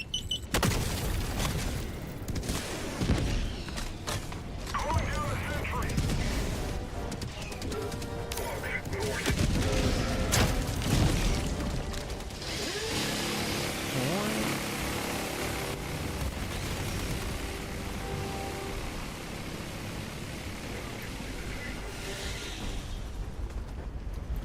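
Sustained gunfire and booming explosions from a sentry machine gun in a cooperative shooter video game, dense and continuous across the whole stretch with heavy impacts layered over rapid fire, voices faintly mixed in.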